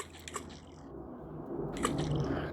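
Antistress water balls are squeezed and squished up close, giving soft wet squelching and crunchy jelly sounds that swell louder toward the end.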